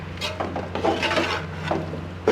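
A spoon scrapes and knocks as keema with carrots and potatoes is stirred in a pot. The scrapes are short and close, with a louder clack at the end.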